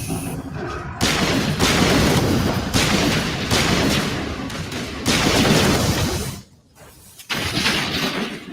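Gunfire in Mass Effect Legendary Edition, heavy continuous bursts of shooting and explosive booms, loud and dense with a brief lull before the firing resumes.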